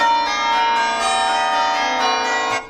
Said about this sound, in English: Tubular bells.